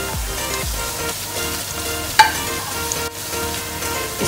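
Ginger slices and crushed garlic sauté in hot oil, giving a continuous close sizzle with a few utensil scrapes and one sharp clack near the middle, alone without speech.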